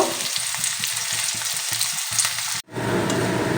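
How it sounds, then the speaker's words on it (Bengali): Finely chopped onions fry in hot oil in a wok for crispy birista, giving a close, steady loud sizzle with a brief cut near the end. "একটা আমি পেঁয়াজ কুচিয়ে ভেজে নেব পেরেস্তা তৈরি করে নেব"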